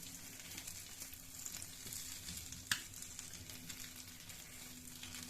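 A chicken vegetable sandwich browns on its edges in a pan, a soft steady sizzle with light shifting sounds and one sharp tap, quiet and close with no talk.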